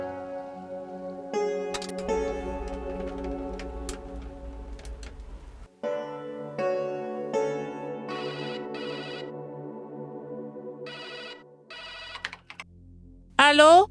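A landline telephone rings in repeated bursts with pauses between them, set against quiet dramatic background music in a French-dubbed TV drama scene.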